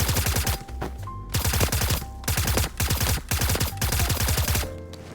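A gun in the game Escape from Duckov fires repeated rapid automatic bursts, loud and punchy, separated by short pauses, with no voices over them.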